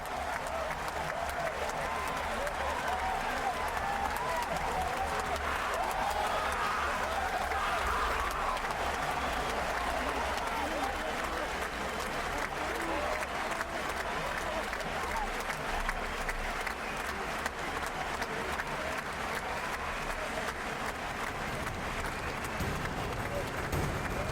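Dense roar of a rugby stadium crowd at a Canada v Japan pool match in Bordeaux, loud and sustained throughout with applause and cheering swelling and holding without a break.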